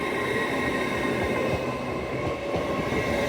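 A busy passenger train rumbles past steadily and loudly at Doncaster on the East Coast Main Line, wheels clattering on the rails, with no voices over the continuous roar.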